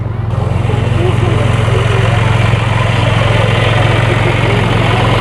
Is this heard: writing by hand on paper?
no